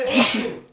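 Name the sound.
sneeze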